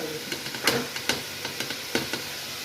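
Spices sizzling in a hot pan for aloo matar rice, with red chilli, cumin, biryani masala and dried coriander being fried; a soft steady sizzle with a few sharp crackles and stirring clicks, fairly close.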